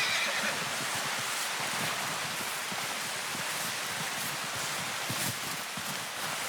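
A horse in the game Red Dead Redemption 2 gives a whinny over a dense outdoor bed of rustling and rain-like hiss, with faint hoof movement, fairly distant and without talk.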